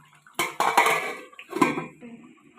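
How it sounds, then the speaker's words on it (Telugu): Spoon scraping and knocking against a pot as curry is mixed, a few sharp metallic clatters close by, ending in a softer clink as a lid goes on. "మళ్ళీ మొత్తం ఒకసారి కలుపుకొని మూత పెట్టేసుకుందాం"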